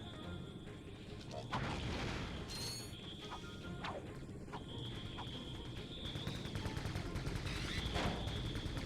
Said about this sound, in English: Those turrets are shooting regardless now.